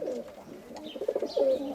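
Young roller pigeons coo nearby in several soft, throaty, bubbling phrases that rise and fall over a couple of seconds, with no talk.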